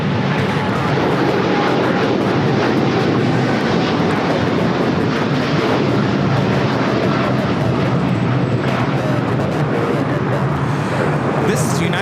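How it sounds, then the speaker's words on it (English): United Airlines Boeing 787-10 Dreamliner taking off from LAX, a loud sustained jet engine roar that stays powerful and steady throughout, with a person talking over it. "This is United Airlines Flight 39 taking off to Tokyo Haneda on the 787-10 Dreamliner."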